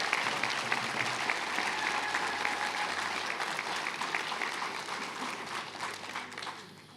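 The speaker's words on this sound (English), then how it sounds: "Please give them a round of applause." Audience applause at a Ponca Tribe of Nebraska open house and Restoration Day celebration, a steady, full round of clapping from a large gathering that holds evenly and then tapers off toward the end.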